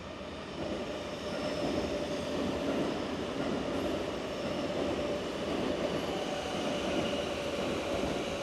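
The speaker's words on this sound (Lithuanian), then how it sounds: "Ir aš tik sugrįžau į Osakos geležinkelio stotį" A train at Osaka railway station makes a steady, continuous rumble with a faint sustained whine running through it. The sound is fairly close and lasts throughout, with no talking.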